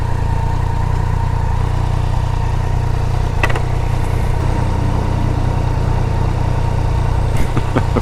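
A 2019 Yamaha Niken GT three-wheeled motorcycle rumbles steadily on light throttle, a low, even engine drone with a couple of faint clicks and rattles over it, close and continuous with no voices.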